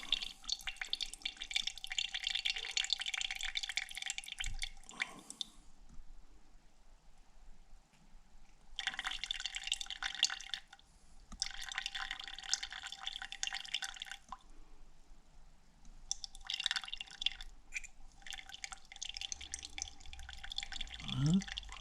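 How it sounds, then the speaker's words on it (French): Water drawn off from beneath a layer of oil drips and trickles in intermittent bursts, fairly faint and close, separated by short quiet gaps. "vous allez retirer l'eau qui est en dessous"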